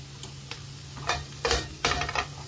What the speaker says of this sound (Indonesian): Sebentar aja ya, kita tumis seperti ini.